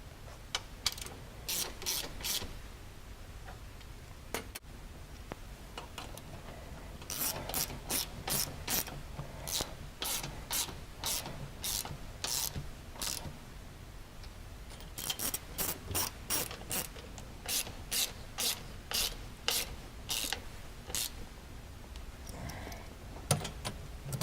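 Ratchet wrench clicking in repeated bursts while tightening the bolts on UHMW belly plates of a Teryx side-by-side, sharp close ratcheting runs separated by short pauses, no talking.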